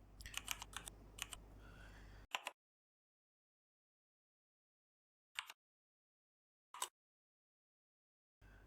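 Keys clatter on a computer keyboard in quick bursts of close, crisp clicks, first a dense run of typing, then long silences broken by a few isolated short flurries of keystrokes.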